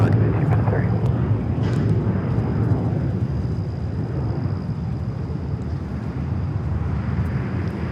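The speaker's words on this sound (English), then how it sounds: "This is American Airlines 1853 taking off to Chicago on the" An American Airlines A321 taking off at LAX gives a loud, sustained low jet roar with wind rumble that holds steady throughout.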